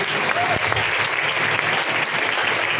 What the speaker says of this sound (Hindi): ओके भाई, आजाद के लिए एक जोरदार ताली हो जाए।